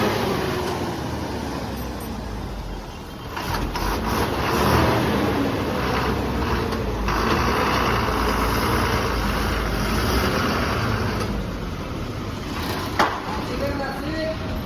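Engine of an MSRTC state transport bus on the Dharashiv to Surat route pulling away at the start of the journey, a steady near rumble with road noise and brief louder surges, heard from inside the cabin.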